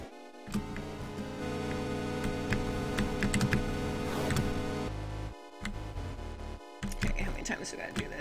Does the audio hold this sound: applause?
no